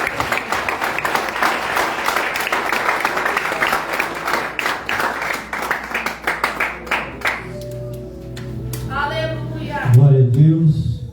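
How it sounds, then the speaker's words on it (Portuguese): A church congregation applauding in praise, a dense, steady clatter of many hands for several seconds that stops as a voice begins speaking. "e aplaude o nome santo de Jesus."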